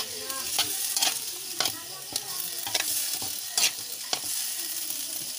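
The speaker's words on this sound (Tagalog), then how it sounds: "At halu-haluin ulit natin." Seafood sizzles in a hot pan with Silver Swan soy sauce while a utensil stirs it, producing a steady frying hiss broken by repeated scraping strokes, close up and without voices.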